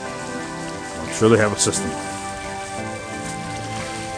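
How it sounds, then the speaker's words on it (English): Steady broadband rush of water from a pumped fountain and waterfall in a garden at night, continuous and moderately close, with a person briefly talking over it partway through. "I don't know if you can hear the water here, there's a fountain, a stream or whatever, waterfall over there"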